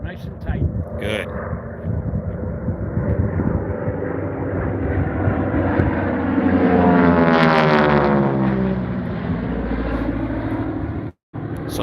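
Propeller-driven AT-6 aircraft race low past the pylons at an air race, a loud engine roar that swells to a peak mid-way, then holds as a sustained drone before abruptly cutting out near the end.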